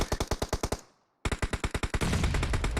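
Rapid automatic gunfire in a competitive first-person shooter scrim match, two loud bursts of evenly spaced shots separated by a brief silence, the second burst running into a dense continuous roar of firing.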